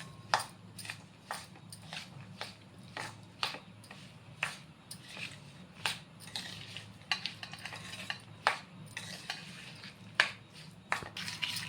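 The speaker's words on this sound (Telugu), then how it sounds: "ఇట్లా కలుపుకోవాలి నూనెలో మంచిగా" A Mysore pak mixture stirred into oil in a pan, with sharp, regular scraping clicks of the spoon over a low steady hiss, close up and with no voices.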